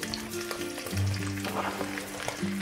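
Beef frying in a pan as onions go in, a steady close sizzle with scattered crackles and a few faint clinks, plus low tonal hum running underneath throughout.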